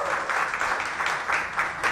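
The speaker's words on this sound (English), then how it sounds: "Go ahead and give yourselves a big round of applause" Quiz show participants give themselves a round of applause after a correct answer on Philadelphia Experiment, a modest burst of clapping from a small group, moderately loud with swelling pulses and a cheer.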